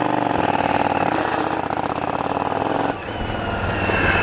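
A motorcycle engine revving as it pulls away in first gear in traffic, a close and steady mid-pitched drone that dips briefly and then builds again.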